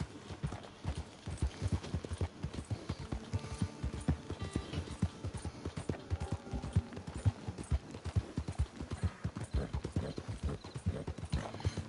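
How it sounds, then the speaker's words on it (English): Steady clip-clop of horse hooves at a quick, rhythmic gallop in Red Dead Redemption 2 Online, close and continuous, with an occasional faint whinny in the background. "Your horse will not gallop when it's got no stamina."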